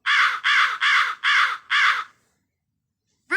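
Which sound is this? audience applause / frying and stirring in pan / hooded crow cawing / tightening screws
hooded crow cawing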